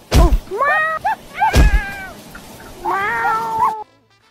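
Several cats meow loudly in a row, drawn-out and wavering cries with heavy thumps at the start and between calls, ending abruptly.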